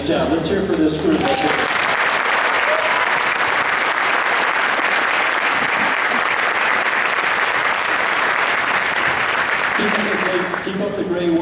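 An audience claps steadily for a school band after it finishes a piece, with sustained applause near and loud across most of the stretch, dropping off at the end as talk resumes.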